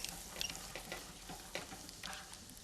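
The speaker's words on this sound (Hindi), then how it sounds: "जैसे ये बटर गरम हो गया है, आइए उसमें गार्लिक सौते करते हैं" Garlic sautés in hot butter in a pan, giving a faint, steady sizzle broken by soft scraping and stirring sounds, with no voices.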